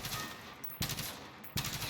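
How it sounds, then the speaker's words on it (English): Short bursts of gunfire from Modern Warfare, three quick volleys in under two seconds, each a dense clatter of rapid shots with brief gaps between them, loud and close. "So first one is obviously to tap fire or burst fire the gun, so you're not just fully auto firing"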